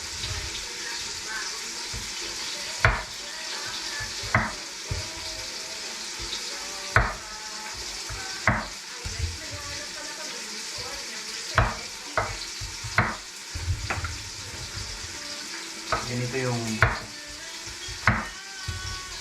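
Meat being sautéed in a pan for sinigang, a low continuous sizzle punctuated by repeated utensil scrapes and clanks at irregular intervals, fairly close.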